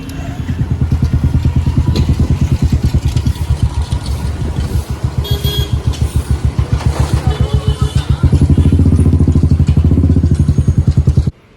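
A motorcycle engine chugs with a fast, pulsing rhythm while riding, loud and close, the revs rising and falling before cutting off at the end.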